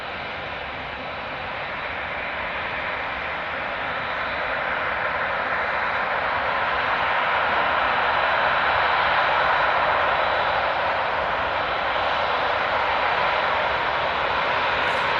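Aircraft taxiing at Manchester Airport, a large jet rolling along the taxiway with a steady broad engine roar that swells gradually and holds loud throughout, no voices.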